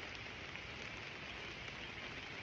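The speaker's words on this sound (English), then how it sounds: "It's rainy, but you're alive, my friend." Steady rainfall, a continuous even hiss of drops pattering on surfaces, moderately quiet with no voices.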